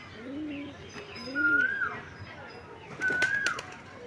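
A pigeon held in the hand coos softly in low, rounded notes near the start, with a couple of brighter rising calls and faint rustling nearby.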